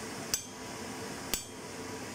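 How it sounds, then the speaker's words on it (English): A hammer striking a chisel into hot metal at a blacksmith's forge on a farm, two sharp, ringing metallic blows about a second apart, close and clear over a quiet background. "nice solid grip on that chisel and hit it"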